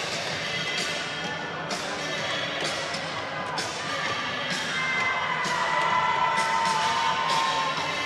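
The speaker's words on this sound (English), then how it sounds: "As you see the crowd here." Spectators at a men's basketball championship game keep up steady crowd noise with cheering and shouting across the gym. Occasional thumps cut through, and the roar grows a little louder in the later seconds.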